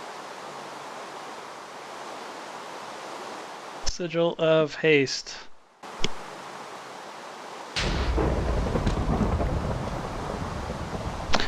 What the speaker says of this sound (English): Oh, lovely. It's raining.